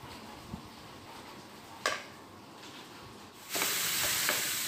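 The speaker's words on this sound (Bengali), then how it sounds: "এদিকে যে মিষ্টি কুমড়ার দানাগুলো বের হয়েছিল সেগুলো একটু ভাজিয়ে দিতেছি।" Pumpkin seeds fry in a pan with a soft crackle that swells into a louder, steady sizzle near the end, marked by a sharp clank partway through.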